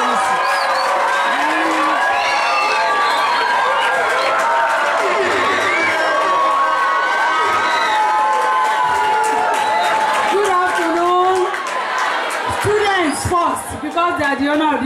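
A school audience in a hall cheers, shouts and claps to welcome the principal at a community high school seminar. Many children's voices rise and overlap in a loud, sustained roar.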